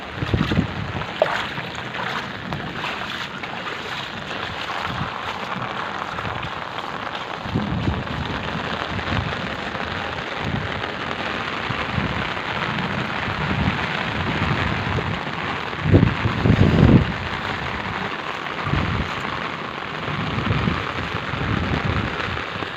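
Heavy rain in Tirunelveli pours down in a dense, continuous hiss, with a few louder spatters and knocks on nearby surfaces over more than twenty seconds, no voices.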